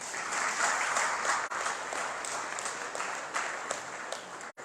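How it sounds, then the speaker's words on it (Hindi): A devotional gathering at Sri Kunjbihari Gaudiya Matha in Ambala Cantt breaks into steady crowd applause. The clapping is dense, near and sustained, with a brief dip partway through and no talk over it. "जो जल्दी आए उनके लिए ताली, जो देर से आए उनके लिए भी तालियां"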